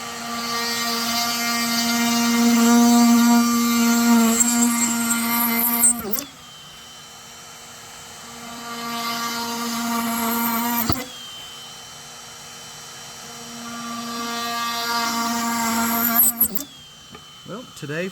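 A handheld Dremel rotary tool drills into a rosewood drone flute, used one-handed: a loud, steady high whine runs for about six seconds, drops away, then returns for several more seconds, with brief abrupt stops between.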